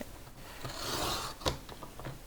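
A paper trimmer blade slicing through two stacked sheets of thicker cardstock, making one short, close, dry rasping slide that ends in a small click.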